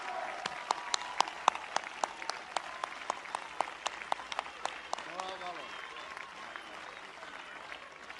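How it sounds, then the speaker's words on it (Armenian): A political rally audience claps with sharp, distinct claps that run steadily for about eight seconds. The sound is moderately loud with a crowd murmur underneath, and a brief voice rises near the end. "բոլորով ողջունենք, ծափահարենք մի մարդու, ով ստեղ ընտրություններին ամենաբարձր քվեին է արժանացել"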